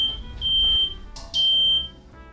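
Smoke alarm beeping over a small fire on a lower level during a stand-up comedy show, two long shrill tones each about half a second, loud and close, with no talk over them.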